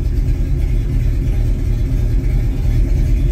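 Car engine fitted with Holley EFI idling, a loud, close, low steady rumble with a slight lope that stays even as the transmission drops into gear.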